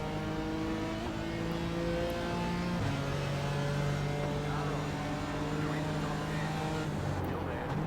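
Race car engines in an iRacing BMW race at Watkins Glen give a steady, loud drone with rising and falling pitch as cars accelerate, with someone talking over it.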